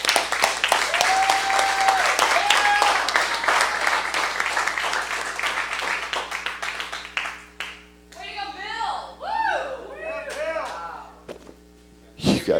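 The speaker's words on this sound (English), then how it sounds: "big round of applause for Steve." Loud crowd applause fills the first half under lively voices, then fades into chatter and scattered claps, with a short burst of clapping at the end.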